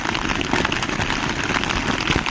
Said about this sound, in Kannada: ಹೊರಗಡೆ ಫುಲ್ಲು ಮಳೆ ಬರ್ತಿದೆ